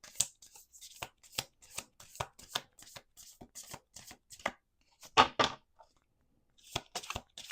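Playing cards being shuffled in a steady series of crisp, rapid riffles and taps, close and clear, with no talking.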